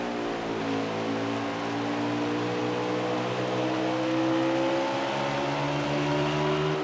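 NASCAR Cup Series race cars at Bristol drone steadily as a dense, continuous engine roar with overlapping tones sliding slowly in pitch, a constant pack sound without breaks and no commentary heard.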